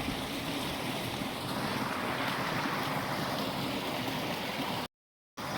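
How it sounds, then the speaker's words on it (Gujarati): Steady rushing water flows continuously through a farm irrigation channel with a broad hiss and wind buffeting, then briefly cuts out near the end. "આપણે ધોરિયામાં પાણી ચાલુ છે"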